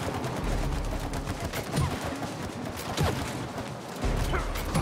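Rapid gunfire from the It Takes Two video game as players blast at swarming bees, a dense continuous rattle of shots with a few sharper bursts, loud and sustained throughout.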